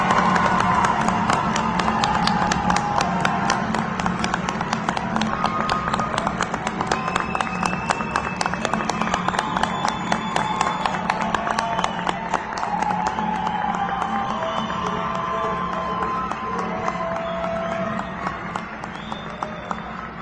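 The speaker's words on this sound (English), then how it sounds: "Let us give our graduates a round of applause." Sustained audience applause at a Central Ohio Technical College spring commencement ceremony, with dense steady clapping from a large crowd filling the hall and easing off slightly toward the end.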